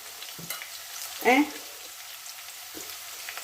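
Shallots sizzling in hot oil while being stirred for a dal curry, a soft steady frying hiss with one brief louder burst in the middle.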